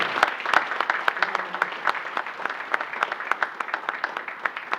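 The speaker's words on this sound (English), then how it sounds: "please give your commissioners a round of applause and the CEO" An audience at a town hall meeting applauds steadily, a dense patter of many hands clapping that carries on at a moderate level and gradually thins out.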